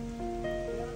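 Heavy rain pours down in a dense, steady patter on surfaces nearby, with a low tonal hum running beneath the downpour.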